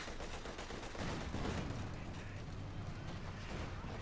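MG42 machine gun fire in the World War II strategy game Company of Heroes 2, a dense, faint rattle of rapid bursts blended with other battle noise throughout, with no one talking.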